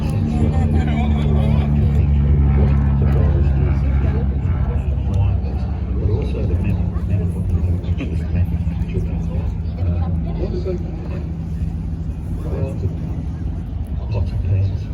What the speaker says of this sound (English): This is my favourite plane to hear.